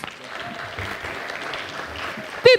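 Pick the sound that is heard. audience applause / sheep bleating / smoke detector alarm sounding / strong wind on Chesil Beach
audience applause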